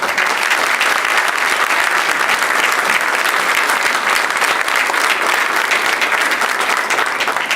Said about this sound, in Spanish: Un aplauso también para ellos.